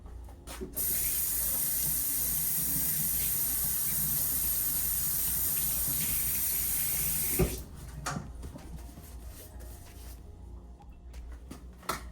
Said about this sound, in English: let me rinse my hands right quick.